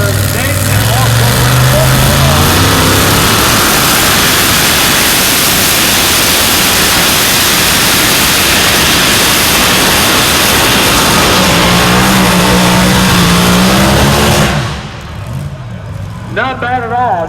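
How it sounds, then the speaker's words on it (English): A two-wheel drive pulling truck roars down the track at a truck pull, its engine howling loud and continuous for most of the run before cutting off abruptly near the end, with an announcer talking over it. "with the two-wheel drive coming our way"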